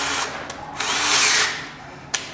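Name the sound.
power drill with auger bit drilling for mortice lock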